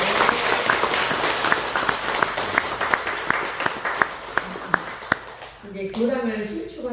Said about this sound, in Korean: 세희님 박수 한번 쳐드려야 돼요